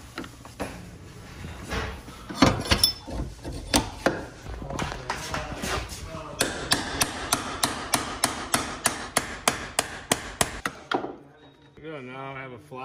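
Metal hammer flattening a rivet head on an ice skate being converted into a rollerblade, with loud sharp blows, irregular at first and then a steady rapid series, then a brief tonal sound at the end.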